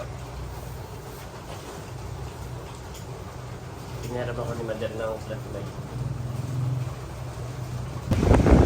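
Strong typhoon wind roars and buffets the microphone in a continuous rushing rumble, with a person speaking over it midway and a louder gust surging at the end.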